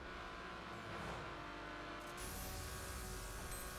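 Porsche in The Crew racing game accelerating flat out, a dense, sustained engine roar with a rising whine that holds steady throughout at full throttle, no voices over it.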